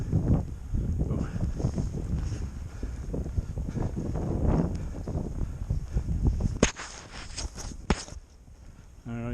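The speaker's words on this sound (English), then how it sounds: "you get a good idea of the wind velocity through here" Blizzard wind in Parker, Colorado, roaring continuously for the whole stretch as it buffets the microphone in gusts, with a few sharper cracking hits near the end.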